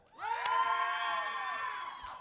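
Crowd at the women's junior pistol shooting final cheers for Canada, a short burst of shouting and whooping that swells quickly, holds loud for about two seconds, then fades.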